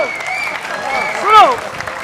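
Audience applause at a political comedy show, a short steady burst of clapping that swells briefly near the middle, mixed under a performer's voice.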